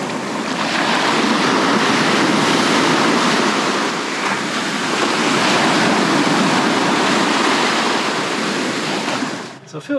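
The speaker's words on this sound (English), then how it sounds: "So this is Bennetts Beach over on the ocean again." Ocean surf at Bennetts Beach on a calm morning makes a loud, continuous wash of breaking water close by, dropping away near the end with some wind buffeting the microphone.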